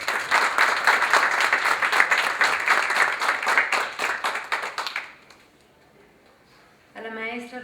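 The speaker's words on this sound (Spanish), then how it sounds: "les pido un aplauso fuerte para él" Strong audience applause for a seminar speaker at a school, dense clapping for about five seconds that quickly dies away, followed by a brief quiet before a voice begins speaking.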